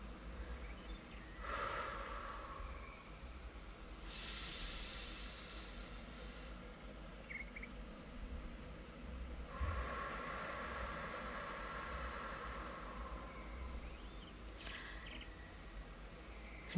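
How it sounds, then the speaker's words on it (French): Quiet breathing during a yoga routine, in through the nose and out through the mouth, a few soft airy breaths spread over the stretch against a steady low background hiss. "Inspirez par le nez et soufflez par la bouche, tranquillement, à votre rythme."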